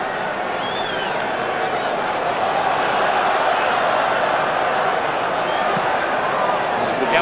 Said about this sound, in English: Disturbance in the crowd.